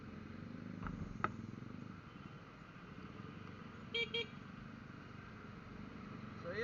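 Night city traffic heard from a SYM Jet 4 RX 125 scooter, a constant engine and road hum with a couple of brief car horn toots cutting through, fairly faint.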